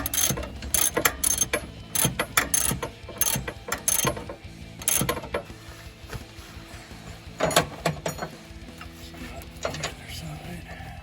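Lightly tightening bolts on a UMI panhard bar relocation kit for a 1993–2002 Camaro gives a series of quick, close ratchet clicks in short bursts with pauses between them.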